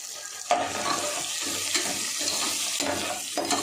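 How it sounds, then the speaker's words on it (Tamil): Onions and curry leaves sauté in a pan for a Tamil chicken gravy, a steady close sizzle with scraping stirs and a few sharper clinks of the utensil against the pan. "வெங்காயம் நல்லா வதங்கி வரட்டது. அதில் ஒரு கொத்து கருவேப்பிலை சேர்த்துக்கலாம்."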